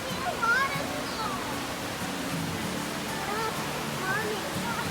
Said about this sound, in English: Look, a waterfall. I see a waterfall.